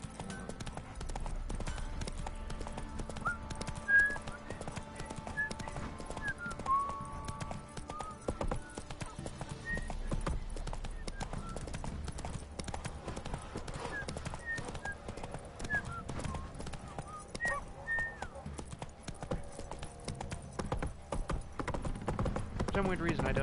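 Roach, the horse in The Witcher 3, gallops with steady rhythmic hoof clip-clops and an occasional whinny. A player's voice talks over the game sound throughout.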